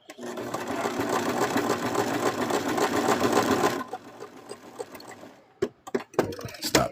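A sewing machine stitches fabric for a plush monster in a fast, steady whirring run of close mechanical chatter for several seconds. It then stops abruptly, and a few handling knocks and rustles follow.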